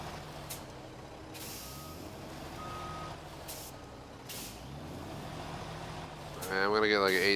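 A heavy truck in the snowy off-road game SnowRunner idles and rumbles steadily, with faint tonal beeps and a burst of hissing air partway through, ending in a louder swelling engine surge.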